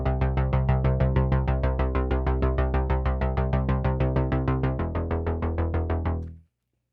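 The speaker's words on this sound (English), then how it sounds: "Here's the Poly6 and the Fatline bass patch." Fat, punchy bass notes from a Korg Poly6 synthesizer on its Fatline bass patch pulse in a steady, rapid sixteenth-note run, shifting pitch partway through before the final note cuts off cleanly into silence.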